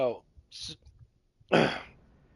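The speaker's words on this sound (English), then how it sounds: "I was trying to fucking cough" A single harsh cough bursts out near the end, preceded by short voiced noises and a throat sound, close to the microphone.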